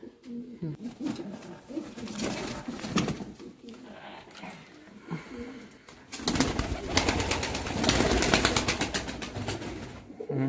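Pigeons in a pigeon loft coo softly and repeatedly nearby, with a louder flurry of cooing and rustling in the second half.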